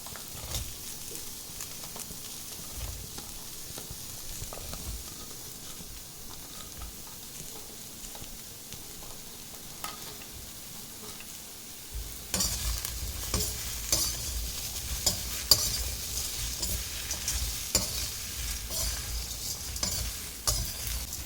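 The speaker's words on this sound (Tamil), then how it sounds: "இப்போ நம்ம எண்ணெய்லாம் சேர்க்காம தான் வதக்கிட்டு இருக்கோம்" Crab masala ingredients dry-roasting in a bare pan without oil, a steady scraping stir over soft crackle that grows noticeably louder and brighter about halfway through, continuous and close with no talking.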